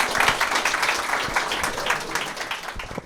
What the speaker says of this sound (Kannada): ಜೋರಾಗಿ ಚಪ್ಪಾಳೆ ಹೊಡಿರಿ